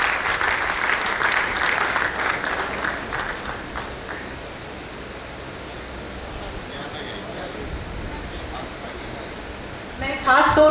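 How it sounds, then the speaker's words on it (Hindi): An audience at a conference claps in steady applause that thins out over several seconds, with a burst of activity near the end. "मैं आप सब लोग के बीच तालियों से उनका स्वागत करवाना चाहूँगा"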